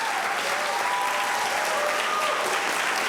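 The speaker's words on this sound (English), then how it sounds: "So a round of our applause for our all-state" Audience at a Baker spring choral concert giving a sustained round of applause for all-state choir participants, a steady even roar of clapping throughout with a faint tonal line in the background.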